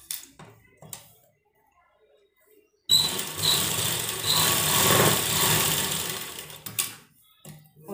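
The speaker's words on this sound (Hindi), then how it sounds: "हम अपने दूसरे कंधे पर भी सिलाई लगानी है।" Sewing machine stitching the shoulder seam of a sleeveless blouse, running in one steady close mechanical whir for about four seconds, framed by quieter handling and a brief start and stop, with someone speaking before it.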